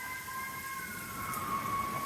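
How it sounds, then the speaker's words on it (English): Emergency vehicle sirens wail faintly in the distance after a heavy thunderstorm, a thin steady tone drifting over a broad wash of background noise, with no voices. "Lots of sirens rolling."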